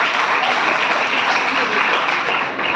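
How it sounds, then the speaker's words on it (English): A big round of applause fills a hall at a women's university program, dense steady clapping from a large audience that holds loud and even throughout without a break. "So another big round of applause."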